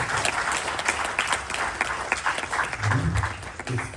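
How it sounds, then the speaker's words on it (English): An audience claps for the Aryan Spirituals at a Ganesh Chaturthi Utsav gathering: moderately loud, continuous applause with scattered individual claps and a brief low murmur partway through. "Clap again for the Aryan Spirituals"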